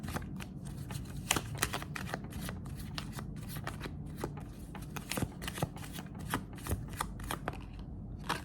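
Tarot cards are shuffled for a reading in a dense, close run of riffling flicks and soft slaps, with short pauses between passes, quiet overall and without talking.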